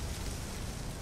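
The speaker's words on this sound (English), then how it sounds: "excuse the train." Steady low rumble with broad wind-like noise, a continuous mechanical drone from a heavy electric train climbing a mountain, no voices.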